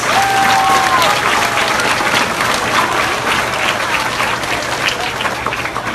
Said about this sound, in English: All right, let's give Mr. Hernandez a round of applause